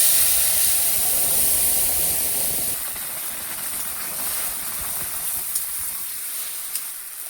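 Tomatoes dropped into hot oil already seasoned with dried red chilli, bay leaf and panch phoron for a sweet tomato chutney, giving a loud steady sizzling hiss that eases slightly after a few seconds, with no talk.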